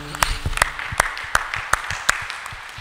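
A church congregation claps together in a steady rhythm of sharp, evenly spaced claps, roughly three per second and close by, with faint voices underneath.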